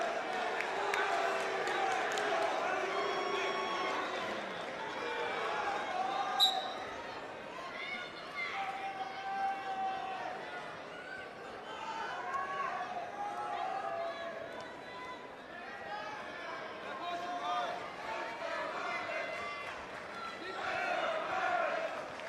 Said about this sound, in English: You can hear the Trinity crowd start yelling for you.